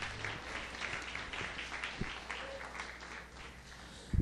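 A church congregation applauding during a sermon, moderately loud clapping in a reverberant hall that gradually thins out, ending with a sharp close thump.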